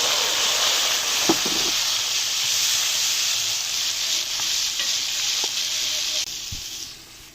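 Chopped large tomato and three to four green chillies frying with browned onions in a home kitchen pan for aloo palak, a steady loud sizzle throughout with a few light stirring clinks, fading slightly at the end.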